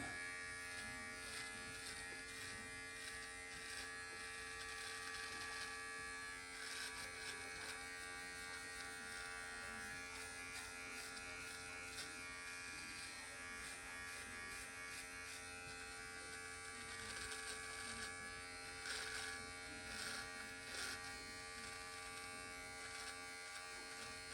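An electric precision beard trimmer runs continuously close by, a steady high buzzing whine with slight fluctuations as it moves through a beard, no speech.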